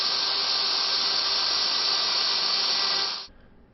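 A CNC router with a single-flute end mill cuts aluminum, giving a steady, high-pitched hissing whine that holds evenly and then stops abruptly.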